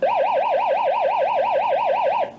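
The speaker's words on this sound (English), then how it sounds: "Abandon platform." Abandon-platform alarm on the Jade offshore platform: a loud, continuous warbling electronic tone that rises and falls in a fast, even rhythm, heard alone with no speech.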